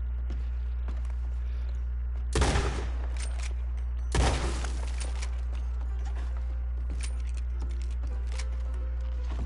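Two loud, sharp shotgun blasts in a video game, a couple of seconds apart, each with a short ringing tail, over a steady low hum.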